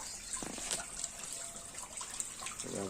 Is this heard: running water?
yes